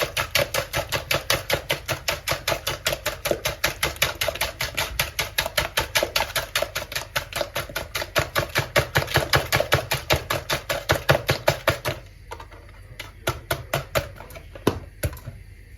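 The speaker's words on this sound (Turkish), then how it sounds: "Şimdi öncelikle biraz şekerle yumurtayı çırpıyoruz." Eggs and sugar are whisked by hand in a bowl for a cherry brownie batter. The loud strokes tap rapidly and evenly for about twelve seconds, then a few scattered knocks follow.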